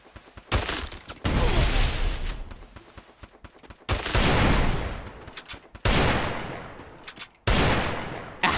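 Video game gunfire in bursts: four loud, dense volleys of rapid shots, each lasting one to two seconds and separated by short pauses, close and dominant with no talk over them.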